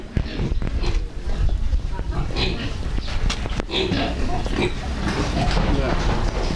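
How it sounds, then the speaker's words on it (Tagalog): Pigs grunting and oinking close by in a pen on a goat and pig farm, with people talking over the busy snorts and squeals. "tingnan natin yung mga baboy"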